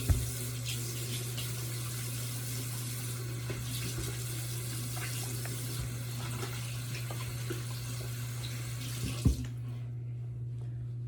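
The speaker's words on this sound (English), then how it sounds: "I'm gonna go ahead and wash my hands." Tap water runs steadily into a sink while hands are washed beneath it, a close, even hiss with a low hum underneath and faint splashes, then the flow stops abruptly near the end, leaving quiet.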